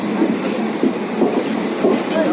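Yercaud Express train rolling into MGR Central station, a steady low rumble with soft rhythmic wheel thumps recurring through a continuous dense noise bed, moderately loud and close.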